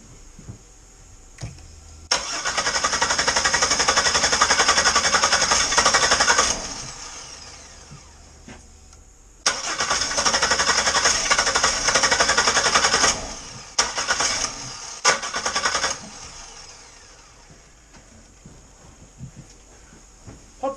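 A Buick Park Avenue engine cranking repeatedly, with long whirring starter bursts, short choppy cranks in between and near catches that never fully start, close by with pauses of quiet.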